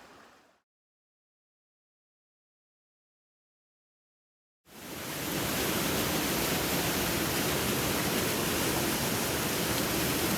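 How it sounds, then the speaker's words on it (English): Brook water flowing at its source beside the Appalachian Trail: after a near-silent gap, a steady, loud, close rushing of water starts abruptly and continues without break. "This is the source of the brook that runs in front of Tim's place."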